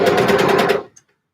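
A sewing machine stitches fabric under the pressing foot in one continuous rapid whirring run that stops abruptly, followed by a faint click.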